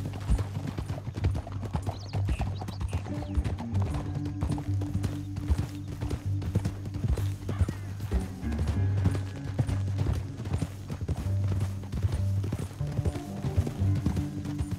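Horses galloping in Red Dead Redemption 2, a rapid, steady clip-clop of hooves over a low rumble, with a brief whinny and shifting in-game background sounds.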